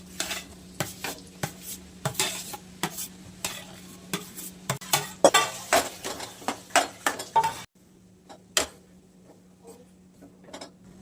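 Potatoes stirred in a pan for dabeli, with a spoon scraping and tapping the metal in a quick irregular rhythm, close and clear, before a quieter stretch with only a few taps.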